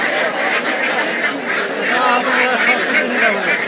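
Belgian ducks, about 70 days old, sold in pairs at a crowded Bangladeshi village market, quacking in a dense continuous chorus alongside geese honking nearby, with market chatter mixed underneath throughout.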